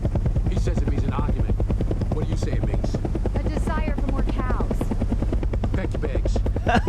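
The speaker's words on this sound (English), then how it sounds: "that's a helicopter with a bright light" A helicopter in the film Arrival gives off a loud, steady rotor drone with a throbbing low pulse that lasts the whole time, while film dialogue plays over it.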